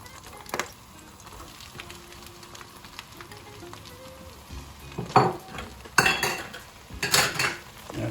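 Thinly sliced onions, two large ones, go into a pan of crackled cumin and spices, sizzling softly at first, then a few sharp clatters of a utensil against the pan.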